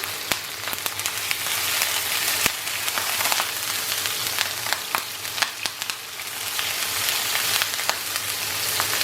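Salmon fillets sear in a tablespoon of olive oil in a hot pan, giving a steady close sizzle with crackling pops and spatters throughout, and no talk.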